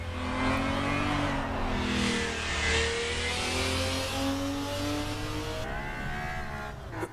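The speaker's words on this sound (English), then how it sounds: "the sound of the car as it goes past, that whirry sound as it goes past you" Race car passing by in the Assetto Corsa EVO racing game, a BMW M3 with a naturally aspirated engine giving a whirring, revving note that swells and fades, loud and sustained with no talking.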